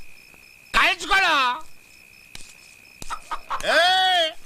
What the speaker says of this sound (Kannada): ಆ ಕಡೆ ಹೋಗ್ಬೇಡ, ನಾಟಿ ಕೋಳಿ ಐತೆ.